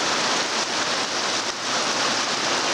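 Rain falls steadily on Mount Katahdin in Maine, a dense, even hiss of drops that stays constant throughout, with no voices.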